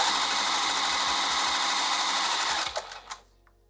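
A sewing machine runs steadily, stitching a gathering line on a dress with a lined bodice, a continuous close whir that slows and stops near the end with a few clunks.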